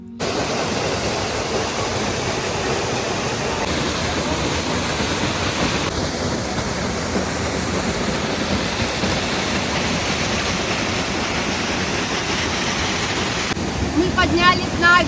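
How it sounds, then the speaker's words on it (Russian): A waterfall in the Carpathian mountains rushes in a steady, loud, continuous roar heard close up, with no break in the flow. "Вот он, этот водопад, просто красотища."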